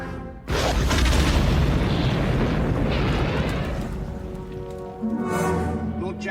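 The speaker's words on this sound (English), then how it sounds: "It just exploded." A Star Destroyer explodes in a Star Wars audio drama as a loud, sustained, rumbling roar with crackling debris that fades slightly, then swells again near the end.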